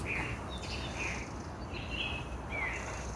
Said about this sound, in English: the sound of nature, the sound of the birds, all twerping and tweaking away.